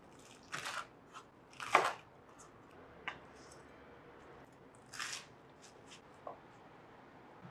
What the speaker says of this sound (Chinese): 好酥脆的声音哦！